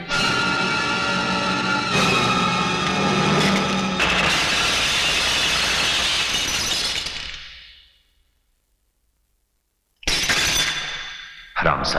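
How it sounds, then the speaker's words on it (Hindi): A gunshot rings out and glass shatters in a Hindi action film scene. A loud, sustained crash and tinkle fades to near silence, then a second sharp burst of breaking glass follows. "गोली चली है, शीशा टूटा है"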